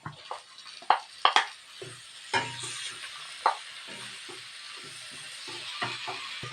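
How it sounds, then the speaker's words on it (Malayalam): Boiled potato, carrot and beetroot go into a hot pan of green chilli and chilli powder for a snack, with a soft sizzle under sharp scrapes and knocks of a spoon stirring, close and without speech. "നമ്മൾ വെന്ത കിഴങ്ങും കാരറ്റും ബീറ്റ്റൂട്ടും കൂടെ ഇടുവാണ്"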